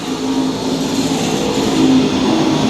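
Race cars circle Lakeside Speedway in a steady, loud engine roar, a dense field of motors droning together with a slight swell near the end and no voices on top.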